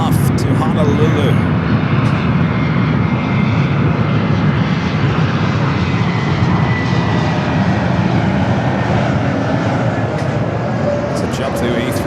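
A Delta heavy jet roars through its takeoff roll from runway 24 left at LAX, a loud, sustained broadband engine rumble with faint radio talk over it.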